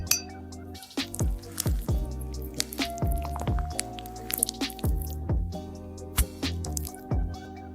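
Water drops in an AI-generated ASMR scene fall in an irregular sequence of crisp, close drips and glassy clinks, each with a short ringing tail, and no one speaks.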